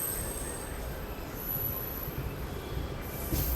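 Hydrogen train pulling out of Sonipat junction: a steady rumbling roll of wheels on track with thin high-pitched wheel squeals running above it, moderately loud and continuous.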